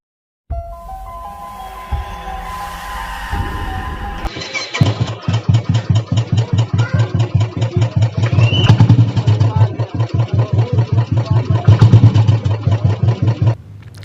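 A gun metal grey Royal Enfield Classic 350 motorcycle cranks and fires up, then settles into a loud, steady thumping idle heard up close, with a brief tonal sound before the start.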